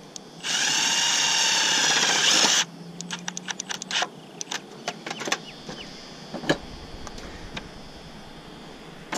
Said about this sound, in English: we're going to just put the screws in for this position here first